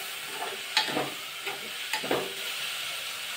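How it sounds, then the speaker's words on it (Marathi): Washed rice being sautéed and stirred in a pan for lemon rice, giving a soft hiss of frying with a few brief scraping stir strokes, close and fairly quiet, no voices. "तांदूळ आपण छान असा हा परतून घ्यायचा आहे"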